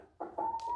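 Young chicks give a brief, soft clucking and cheeping call, close by and quiet, lasting under a second.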